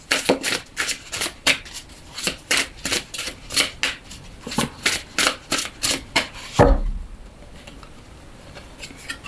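Tarot cards are shuffled close to the mic, giving a run of sharp riffling bursts in an uneven rhythm for several seconds before a soft thump and then quiet.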